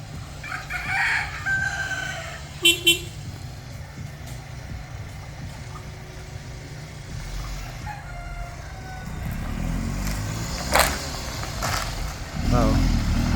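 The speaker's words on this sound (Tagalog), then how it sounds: "May manok." A rooster crows faintly at a distance over the low rumble of a car interior on a road, with short louder bursts and a rising engine drone near the end.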